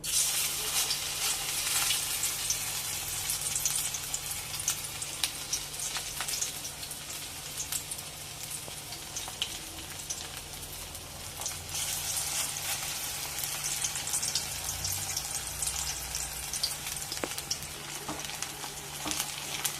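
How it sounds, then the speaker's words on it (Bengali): Water spinach fritters fry in a pan of oil with a steady, dense sizzle and crackle that holds close and even throughout, with no talk. "আমি বড়াগুলো ভেজে নিয়েছি"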